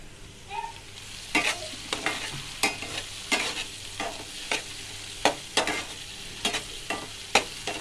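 Frying for street-style pav bhaji gives a steady sizzle in a pan, punctuated by a series of sharp spatula scrapes and stirs every second or so, close and clear without talk.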